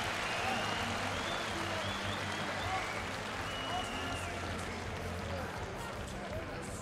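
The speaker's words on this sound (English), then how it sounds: "We hear the crowd cheering and applauding." Crowd at a Senshi kickboxing match cheers and applauds at the end of a round, a dense roar of claps and voices with a few whistles rising above, while commentators talk over it.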